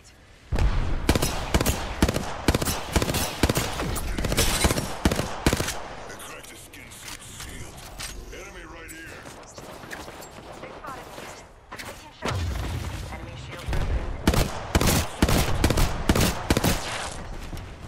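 Loud, rapid gunfire in an Apex Legends ranked match, with repeated fast bursts and a quieter lull in the middle before heavy shooting resumes. Game voice lines are heard in places.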